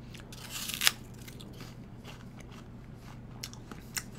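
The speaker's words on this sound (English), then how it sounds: "Like, wow, this is like super crunchy." A single sharp, crisp bite into a very crunchy NY Ruby Frost apple, close and loud, followed by a few fainter crunches while chewing, with no talking.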